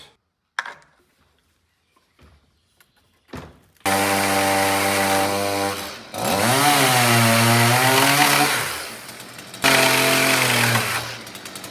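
Chainsaw cutting reclaimed timber beams, loud and close, starting after a few quiet clicks, with three bursts of cutting where the engine pitch bogs down and rises as the chain bites the wood.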